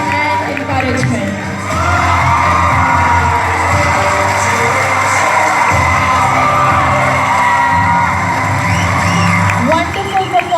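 Parents in a school hall cheer and clap for a children's martial arts display, a loud continuous crowd roar with shouts and whoops, a voice speaking over it.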